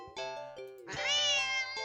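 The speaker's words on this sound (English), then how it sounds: "the cat meows sharply at you and dashes off" A cat in a skinwalker horror video game meows sharply twice, close and clear, the second call longer and more strained.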